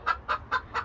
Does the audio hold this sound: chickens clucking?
yes